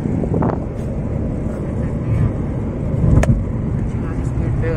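Renault Triber RXZ AMT car driving fast in fifth gear, a steady broadband road and wind rumble with engine drone throughout, loud and continuous from inside the cabin.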